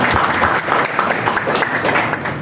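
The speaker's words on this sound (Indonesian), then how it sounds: "Aplaus dulu buat Bapak Ibu semua" Ceremony audience applause, a close, dense patter of many hands clapping steadily for a couple of seconds.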